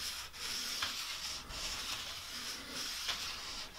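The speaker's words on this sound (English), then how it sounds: "It's a track rubber, called a Bright Boy by Walther's. The way you use it, rub it along the track." A Walthers Bright Boy abrasive track rubber is scrubbed back and forth along model railroad rails in a steady, soft, close rasping rhythm of short strokes.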